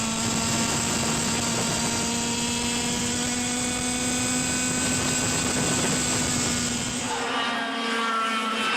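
Yamaha junior racing kart engines scream at high RPM during a 2011 CIK Junior Yamaha final, a loud, tonal whine that holds steady and then drops away in the last second or so.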